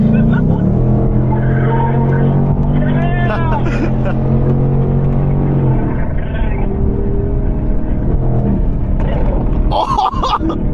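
Ferrari accelerating hard past on the Pacific Coast Highway, a loud engine note rising and sweeping by close through traffic noise, with excited voices talking over it inside a car with the windows up.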